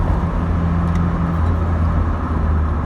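Retro classic car driving on the road, a steady loud engine and road rumble heard from inside the cabin, with no speech.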